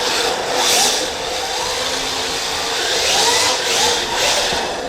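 A rear-wheel-drive DumboRC RC drift car with a built-in gyro whines through a hard left-turn drift, its small high-pitched motor swelling and easing in a couple of surges over a few seconds, with no talking.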